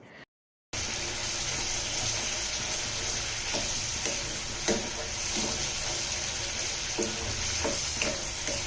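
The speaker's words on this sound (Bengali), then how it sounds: "তখন এর মধ্যে দিয়ে দিব অল্প পরিমাণে পানি।" Small amount of water added to a pan of dried Loitta fish (lotka shutki) cooking on low heat, giving a steady loud sizzle and bubbling with faint stirring clicks after a brief silent gap at the start.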